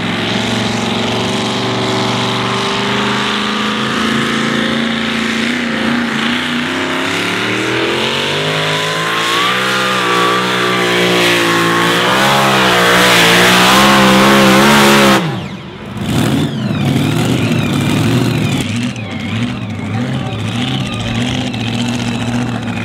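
A two-wheel drive pulling tractor in the 2600 kg class revs hard at the pull-off, a loud sustained engine roar climbing steadily in pitch before cutting abruptly, then a rougher idle carries on, with a commentator's voice faintly underneath.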